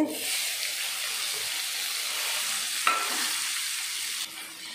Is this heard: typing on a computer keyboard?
no